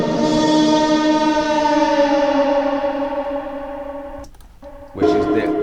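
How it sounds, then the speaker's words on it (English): A war horn effect sounds a long, sustained, rich brassy blast with heavy echo, breaking off near the end before a second loud blast returns with no one talking over it. "I also have this war horn again."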